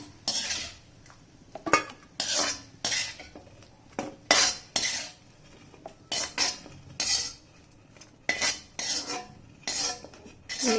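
A metal utensil scrapes and clinks repeatedly against a pan in irregular bursts, stirring bitter gourd frying in oil with a faint sizzle underneath.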